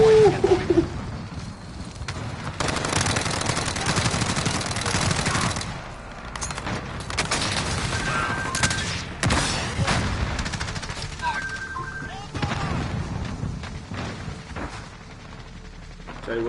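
Dense video-game firefight with sustained automatic rifle bursts and scattered heavy booms, loud and continuous for the whole stretch, with short gaps between volleys and a few mechanical clicks.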